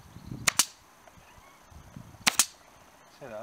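A staple gun fires two quick double-clack bursts, a pair of sharp snaps early and another pair about two seconds later, while stapling a custom cover onto a GY6 Chinese scooter seat. The shots are close and loud over a quiet room.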